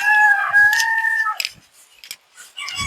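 A rooster at a farm of rare, expensive chicken breeds crows loudly and close, one long call, followed by a few short, quieter clucks and squawks.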